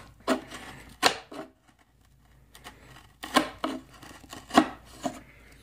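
A Cold Steel 4Max folding knife chops into wood in spaced, sharp strikes, about half a dozen close impacts separated by short pauses.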